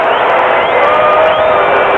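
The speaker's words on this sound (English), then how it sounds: "Hostile crowd giving it to Cat." Hostile basketball arena crowd during an NBA Finals game, a loud, dense roar of jeering voices and whistles that stays steady throughout the two seconds.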